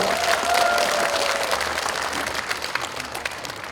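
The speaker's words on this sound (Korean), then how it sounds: "여러분 박수로 맞아주시면 고맙겠습니다" A crowd at a political constituency report event in Yeongju claps steadily, a broad wash of audience applause at moderate level that thins slightly toward the end, with a faint tone drifting beneath it early on.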